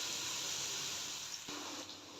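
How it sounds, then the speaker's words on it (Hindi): Potatoes and eggplant frying in hot oil over high heat, a steady close hiss of sizzling that runs throughout with a brief sharp crackle midway. "तेज़ आंच के ऊपर हमने आलू को बैंगन को फ्राई कर लेना है"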